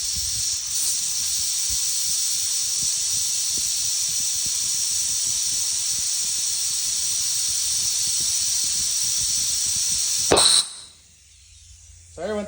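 A sustained loud hiss of compressed air is pushed into a Mustang Cobra brake caliper, ending in a sharp burst as the piston is forced out, followed by quieter hissing, with low talk underneath.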